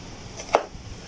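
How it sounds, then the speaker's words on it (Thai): A single crisp knife cut through a lime lands on a board, one short sharp chop in an otherwise quiet room. "ค่อยๆ หั่นไปเรื่อยๆ ใจเย็นๆ"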